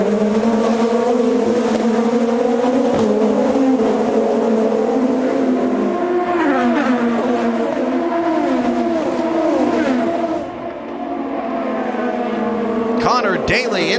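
IndyCar race cars on the Detroit street circuit accelerate hard as the pace car pulls away, multiple engines rising and shifting through gears in loud overlapping whines that dip briefly before surging again.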